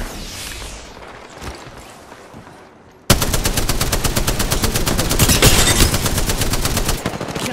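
Apex Legends gunfire bursts in abruptly after a few quiet seconds, a loud, rapid automatic stream of evenly spaced shots that continues almost unbroken to the end.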